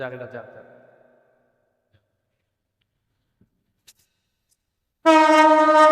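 After a brief stretch of speech and a quiet pause, a train horn starts abruptly with a loud, sustained, steady blast.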